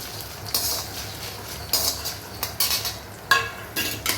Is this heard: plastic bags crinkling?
no